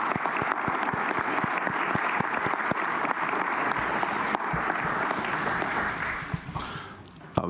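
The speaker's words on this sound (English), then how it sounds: "I just invite you all to give each other a big round of applause for your success" Sustained crowd applause from the audience at a Public Accounts Committee presentation ceremony in 2020: a dense, even roar of many hands clapping close by, holding strong for several seconds before thinning and tapering off near the end.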